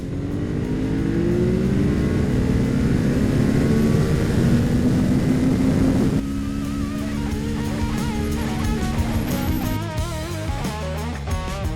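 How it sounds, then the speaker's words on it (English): A motorcycle pulls a second-gear roll-on from 40 to 100 on a Mexican highway. The engine note climbs steadily and loudly, then drops at a gear change before rising again, with wind rush throughout. "We'll start out with a second gear 40 to 100 roll on a Mexican highway."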